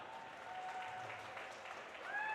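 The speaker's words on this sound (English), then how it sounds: "Now give them a big round of applause." Crowd in a rink applauds during girls' high school hockey senior night as players walk onto the ice; sustained clapping, fairly distant and moderate, with faint voices underneath.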